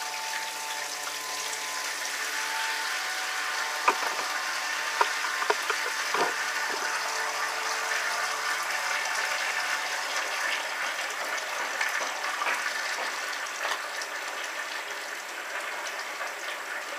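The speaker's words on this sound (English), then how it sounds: "add our strike water." Strike water is added for a home brew, a steady, faint run of flowing water with some mechanical clicks and small knocks, continuing without talk over a long stretch.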